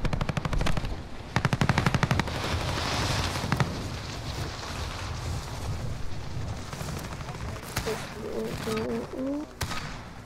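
Machine gun fire in a Call of Duty: Modern Warfare match, loud rapid bursts that rattle out in several volleys amid booming explosions, with a player's voice talking over the chaotic battle.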